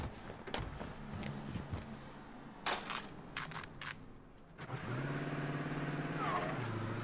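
A stolen car in the video game Mafia III, with clicks and thumps first, then the engine starting up and driving off, a steady rising hum in the final seconds.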